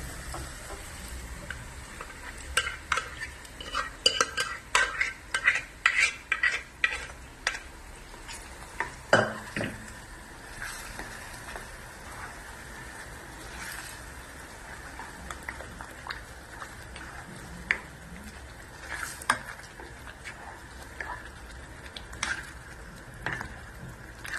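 Pav bhaji vegetables in oil are stirred and mashed in a pan, with a cluster of quick, close spoon knocks and scrapes early on, then sparser taps over a faint sizzle, no talking.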